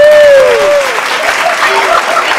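Applause and crowd noise at an award event, loud and close, with a voice singing or calling over the start before the clapping carries on under scattered voices.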